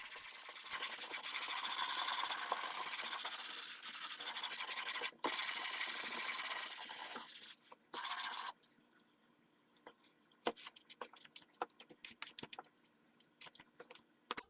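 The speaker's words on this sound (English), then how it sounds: "The block is also very important anytime I'm sanding to an edge." Steady abrasive rubbing of sandpaper on a block against a wooden rifle stock, continuous and close for several seconds, then breaking into short, separate scraping strokes with brief pauses.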